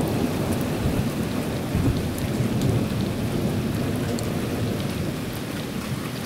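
Heavy rain pours steadily through a strong summer thunderstorm over Hampton Roads, with deep rolling thunder rumbling loud and close beneath the downpour throughout, no voices.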